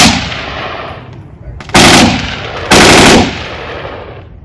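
A machine gun at a shooting range fires two loud, sharp bursts close by, each lasting about half a second, with chatter and background noise between them.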